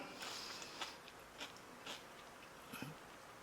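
Quiet, close crunching bites and chewing of a pasta salad with raw broccoli and crisp vegetables in a creamy peppercorn Parmesan dressing, soft irregular crunches over faint background hiss.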